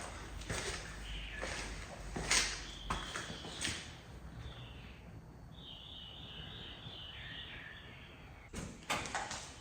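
Faint clunks, knocks and scraping mark a door being fitted onto the front of a computer cabinet, with several sharp impacts at the start and a couple more near the end over quiet room noise.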